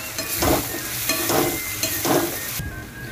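Roasted, ground spice masala frying in oil with softened tomatoes, stirred in three loud scraping sweeps over a continuous close sizzle.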